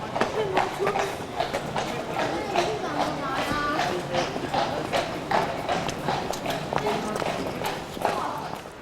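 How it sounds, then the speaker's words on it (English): Horses' hooves clip-clopping on old cobbled streets in Bruges, a steady rhythmic clatter of many hoof strikes, moderately near, with a voice talking over it much of the time. "the sound of horses' hooves echo all around the quaint cobbled streets"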